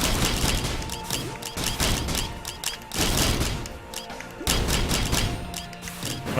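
Missile-firing elite enemies in the video game Risk of Rain, a dense continuous barrage of rapid blasts and explosive bursts layered over game sound, loud throughout with short dips in between.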